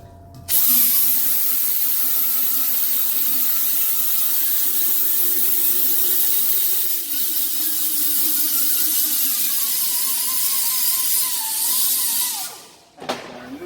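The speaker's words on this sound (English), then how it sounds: "we're going to take our sanding cookie and we're going to remove the rust" Sanding cookie on a power tool grinding rust off a rear brake drum, a loud continuous high-pitched whine that holds steady for about twelve seconds, dips briefly near the end and then stops.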